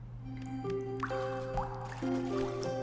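Water dripping in an ice cave river in Toki Tori 2, soft scattered plinks and drips over a quiet tonal game backdrop.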